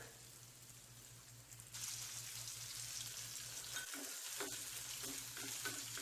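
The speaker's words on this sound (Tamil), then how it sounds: "சின்ன வெங்காயம் ரொம்ப ப்ரௌனாக வதங்கணும் அப்படின்னு இல்லைங்க, பாதி வந்தாலே போதுமானது." Small onions (shallots) sauté in a pan for a tangy mango curry, giving a soft, steady sizzle with faint stirring scrapes, growing slightly louder partway through.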